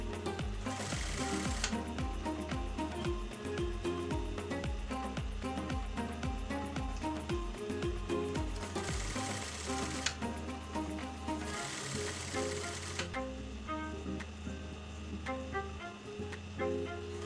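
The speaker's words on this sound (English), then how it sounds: "I'm using my sewing machine to sew." A sewing machine stitches a fabric scrunchie in quick rhythmic bursts, the needle chattering steadily close by with brief pauses and restarts, no talking.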